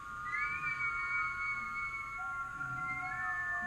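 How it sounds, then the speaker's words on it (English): Yoga breathing exercise in a Kundalini class, breath pushed through puckered lips into thin, sustained whistles that waver and glide, with several whistling at once over faint room noise. "inhaling and exhaling through puckered lips with a whistle"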